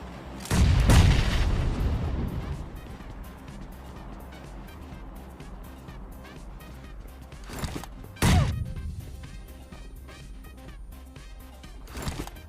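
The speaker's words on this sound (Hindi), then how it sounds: "सामने वाले बंदे ग्रेनेड बरसाने शुरू कर देते हैं" Grenades go off in the mobile battle royale game PUBG Mobile, with two heavy booming blasts spaced several seconds apart and a smaller thud near the end, separated by a low rumble and quieter game noise.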